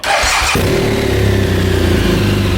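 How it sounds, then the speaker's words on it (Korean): A BMW R1200GS LC motorcycle engine cranks with a brief starter whir, then catches and settles into a loud, steady, close idle. "시동을 걸어 보겠습니다."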